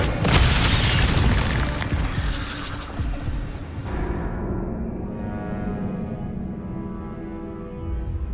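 Incendio fire spell cast in the Hogwarts Legacy video game, a loud fiery burst that flares bright and then rolls into a sustained low roar fading over several seconds, with no voices.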